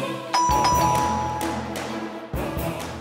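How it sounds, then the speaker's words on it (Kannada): A house doorbell chimes ding-dong near and clear, its tones ringing out and decaying, followed by a second press later on. "ಹೋಗ್ರಿ ಬೆಲ್ ಮಾಡ್ರಿ"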